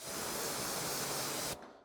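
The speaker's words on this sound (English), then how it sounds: "You just spray it on to the wet panel." Sonax Hypercoat drying aid sprayed from a Sonax pump sprayer onto a wet car panel: one steady, close, loud hiss of spray lasting about a second and a half, then cutting off abruptly into quiet.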